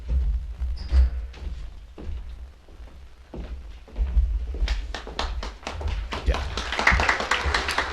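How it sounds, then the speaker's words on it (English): Audience at a telephone cooperative's annual meeting breaking into applause, sparse claps at first swelling into fuller clapping toward the end, fairly distant in a large hall. "You may not be so excited to clap when we're all done here"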